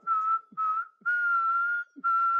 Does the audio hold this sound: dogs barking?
no